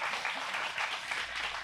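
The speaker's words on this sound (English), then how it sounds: "Let's give her a round of applause." Soft, continuous applause from a seminar audience, heard from a distance and fairly quiet, lasting only a moment.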